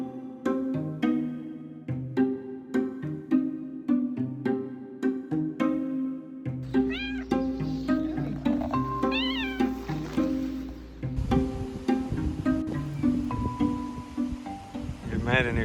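A stray kitten at a free campsite meows repeatedly and insistently, close and clear, with a steady series of short cries throughout and some background noise later on.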